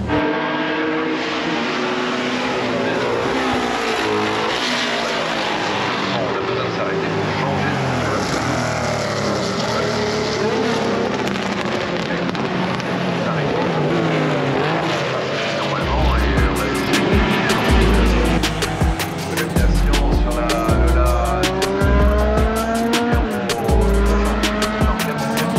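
Cars pass close by in a steady, loud wash of road noise and engine rumble, with heavier low throbbing surges in the later part; no voices stand out.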